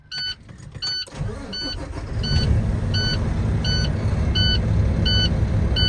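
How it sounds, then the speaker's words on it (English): A 2012 International truck's engine cranks and catches, settling into a loud, steady diesel rumble close by, while repeated in-cab warning chimes beep at a regular pace over it. "I'm going to go ahead and start the truck"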